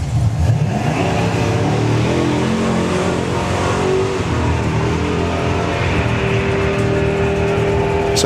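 Two drag racers, a 1969 Camaro and a Morris Minor, run at a hot rod drag strip, their engines roaring loud and continuous as they accelerate down the track.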